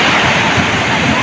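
Waves wash around a small boat at sea, a loud, constant rushing roar of water close by, with wind noise on the microphone mixed in.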